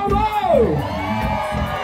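Crowd at a tribute band show in a shopping mall in Várzea Paulista, cheering and whooping loudly for about two seconds, with shouting voices mixed into the din.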